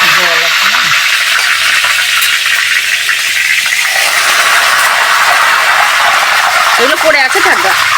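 Curry leaves fry loudly in hot oil for homemade chanachur, a dense, continuous close sizzle with crackling bursts and stirring, while a voice talks over it.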